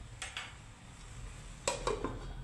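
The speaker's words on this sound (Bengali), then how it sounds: "তো আমি ঢাকনা দিয়ে দিলাম" A metal lid set down on a cooking pan of spiced aubergine simmering with fish and tomato gives a few close clinks and taps, with a quieter pair of knocks earlier in the clip.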